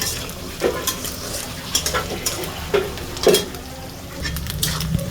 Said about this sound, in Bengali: যদি চিংড়ি মাছগুলো ভাজা হয় মরিচ পেঁয়াজের সাথে